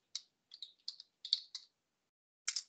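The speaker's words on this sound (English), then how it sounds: "Type in Fine Woodworking" Quick bursts of keystrokes on a computer keyboard, a short run of close, crisp taps followed by a pause and a final pair of presses.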